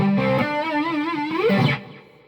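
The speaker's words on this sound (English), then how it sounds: "So this has got an aggressive chorus on it." Electric guitar through a Hughes & Kettner Black Spirit 200 amp on the lead channel with aggressive chorus, a short distorted sustained phrase with wavering pitch that rings out and cuts off, heard alone.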